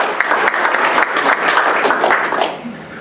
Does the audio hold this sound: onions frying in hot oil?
no